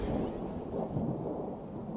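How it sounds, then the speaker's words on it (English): Deep thunder rumbles through a hellish landscape lit by green lightning in the video game Rain World. It is a continuous, fairly loud low roll with a steady hiss of rain above it, and no voices. "it's interesting how it's backed by the sounds of thunder and such."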